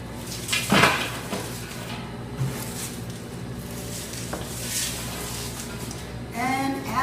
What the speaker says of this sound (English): The cabbage is cut. Next thing you do is just transfer it to your bowl.